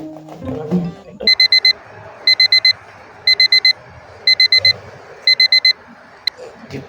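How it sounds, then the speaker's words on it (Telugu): An alarm clock rings indoors in five bursts of rapid electronic beeping, each a quick group of four shrill tones with short pauses between, after brief low murmuring at the start. "ఇప్పుడు అలారం అవుతుంది అందరా"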